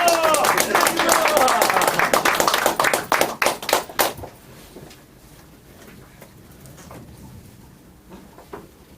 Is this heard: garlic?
no